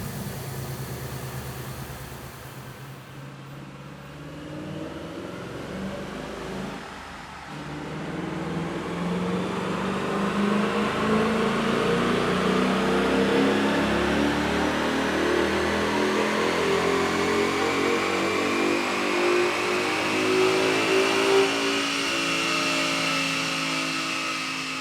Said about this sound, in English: Now let's see how much power we gained on the dyno after installing this easy bolt-on.